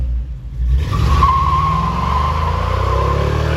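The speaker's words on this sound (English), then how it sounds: "I'm gonna do a little burnout right quick." A 1955 Chevy pickup with an LS swap breaks into a burnout, a sudden loud engine roar kicking in after a second of rumble, then a sustained tire squeal over the steady engine drone.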